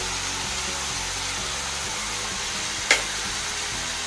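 Vegetables and noodles stir-fry over a low flame with vinegar, dark soy, red and green chilli sauces, Schezwan chutney and ketchup, a steady close sizzling hiss under a low rumble, broken by one sharp clink near the end.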